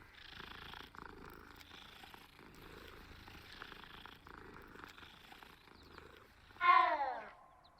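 A cat in the game Hogwarts Legacy purrs softly and continuously in a close, rhythmic rumble, ending with a sudden louder meow.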